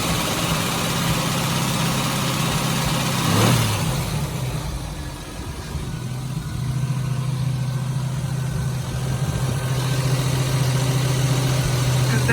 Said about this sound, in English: Bit of an ignition misfire.